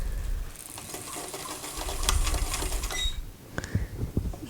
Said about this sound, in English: Make sure you're only stitching on what you're supposed to.